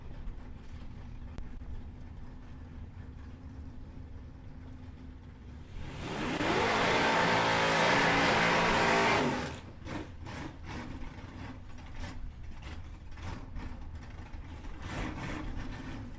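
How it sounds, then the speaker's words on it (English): A manual-shift drag race car blasts down the strip at Palmyra Raceway, a loud roaring burst of about three and a half seconds rising out of a quieter background hum and then fading away. "Sounds like he's out there swapping cogs,"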